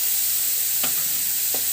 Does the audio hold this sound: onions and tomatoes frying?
yes